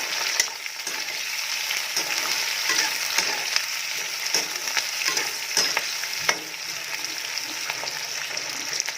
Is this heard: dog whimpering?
no